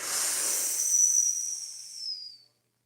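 A person breathes out during a guided meditation, one long airy exhale lasting about two and a half seconds. It is close, steady and breathy, then fades to silence, with no talk over it.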